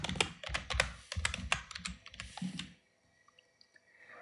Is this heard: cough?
no